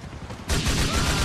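A single heavy shotgun blast in a video game erupts abruptly partway through, loud and close, followed by a booming, noisy decay after a quieter stretch.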